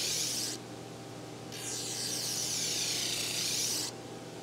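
Sandpaper rubs across a 1961 Bear Kodiak traditional recurve bow to remove scratches, producing soft, close scratchy strokes in two longer passes separated by brief pauses, quiet and unaccompanied by talk.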